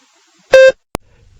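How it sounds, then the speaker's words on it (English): A single electronic beep, a steady tone of about a fifth of a second, sounds alone in a TOEFL practice test to signal the start of speaking, followed by a short sharp click and faint low rumble. "Begin speaking after the beep."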